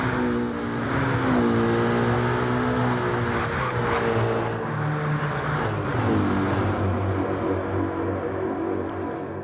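Race cars in a sim racing league game roar continuously through banked corners, several engines layered close together with rising and falling pitch as they shift and accelerate, loud and steady with no talk.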